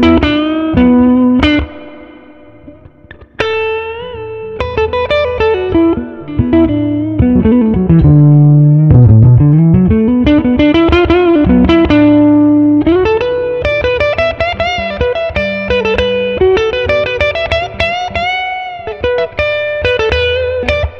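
Electric guitar on the neck pickup through a handwired Princeton Reverb amp rings out clean and lush with reverb, loud picked notes and chords with a slow bend in the middle, played alone.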